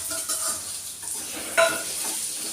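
Onions and curry leaves sauté in a pan, giving a soft steady sizzle with a few scraping stirs of a spoon against the metal, one sharper clink partway through.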